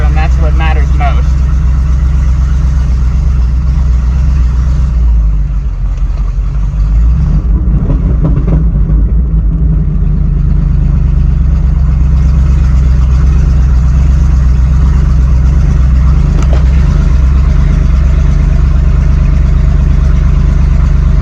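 A car engine running loud and close after an emergency engine swap, a steady low rumbling drone with a slipping clutch, continuous throughout with slight variations.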